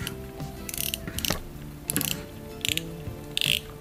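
The front drag of a Weida MV2000A spinning reel gives off several short bursts of rapid mechanical clicking, close and fairly quiet.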